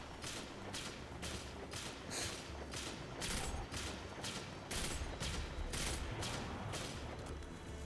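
Leviathan's Breath bow shots in a video game, a steady series of about a dozen evenly spaced sharp impacts over a constant noisy battle background, with no talk.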